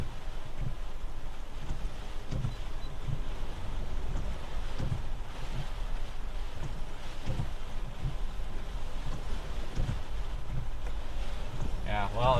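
Strong wind from Tropical Storm Hilary in California roars steadily around a vehicle stopped on a roadside, with continuous buffeting gusts and heavy low rumble throughout.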